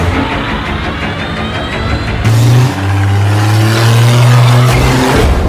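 A car speeding away, loud engine revving up with a rising whine and tire squeal partway through, then holding a high strained drone as it accelerates off.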